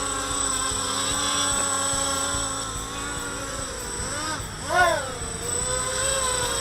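Racer X quadcopter drone on a 2650mAh 4S battery flying, a steady buzzing propeller whine with pitch swoops as it maneuvers, fairly close, with a brief louder surge near the end.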